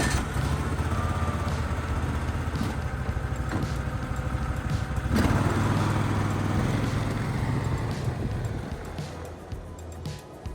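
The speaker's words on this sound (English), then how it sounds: "let's start the engine and have a ride" A double-tracked snowmobile's engine runs steadily with a low rumbling drone throughout, loud and continuous with a brief surge midway, and some voice faintly underneath.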